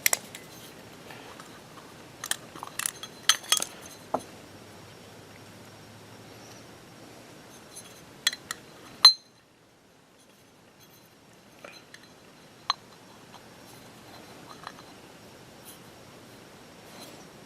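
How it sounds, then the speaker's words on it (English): Sparse, faint clicks and light metallic clinks as an O-ring and float bowl are fitted onto a go-kart carburetor, with a few brief sharp taps scattered over long quiet stretches and no talking. "let's get the ring, the O-ring on, clean it, and then we'll get the bowl on"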